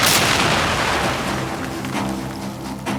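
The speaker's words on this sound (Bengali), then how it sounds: "এই জায়গায় আপনাদের দেখবেন এখানে 2টা বম ব্লাস্ট হবে, 2টা মর্টার পাকিস্তানি বাহিনীরা ওদের দিকে ছুঁড়ে মারবে" Mortar blasts go off in a war film scene set among rocks: a heavy booming explosion at the start that decays into rumbling debris and a sustained roar.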